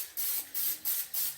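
Cooking spray hisses onto a baking sheet in four quick, even bursts, close and clear with short gaps between them and no talking.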